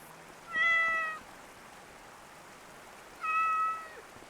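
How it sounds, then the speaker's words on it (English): A house cat meows twice indoors, two clear separate calls about three seconds apart, moderately close, with quiet room tone between and no talking. "Yes, you did hear a cat."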